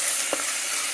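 Onions and green chillies frying in oil after whole spices for paya (trotter) curry, a steady close hiss of sizzling with one brief stir or clink, no talking.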